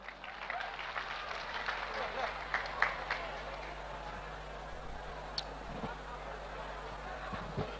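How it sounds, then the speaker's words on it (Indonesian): An audience at a campus religious lecture claps in a broad, fairly distant wash of applause lasting several seconds, with voices and murmurs running beneath it. "Beri tepuk tangan"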